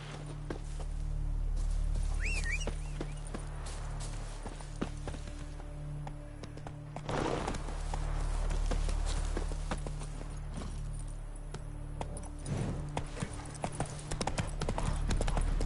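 Hoofbeats of Geralt's horse Roach in The Witcher 3, a steady clip-clop at a trot over game ambience and music, moderately close, with a brief louder whoosh partway through.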